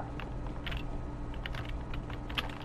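Rapid computer keyboard typing and mouse clicking during a Minecraft Bed Wars match, a steady close clatter of keystrokes with sharper clicks scattered throughout, no voices.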